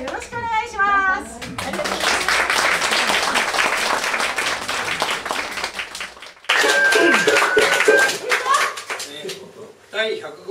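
An audience at a rakugo show in a storytelling hall gives warm applause. A voice speaks first, then dense clapping fills several seconds. After a short gap, scattered clapping and talk continue.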